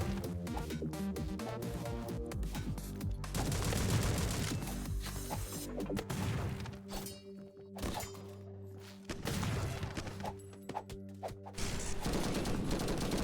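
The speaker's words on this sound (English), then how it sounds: "My rocket launcher is just not insta-killing the guy." Rocket launcher fire in the video game Madness Combat Project: Agent II, a loud dense run of booming blasts and thuds over a busy game soundtrack, with no speech.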